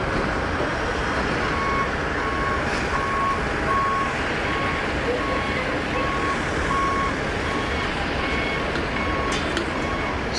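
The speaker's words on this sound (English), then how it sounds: "All you can hear is the squeaky brakes of the baggage truck." Airport baggage truck at an apron, with a steady engine hum and a repeating intermittent high beeping that carries over the surrounding airport noise at moderate distance.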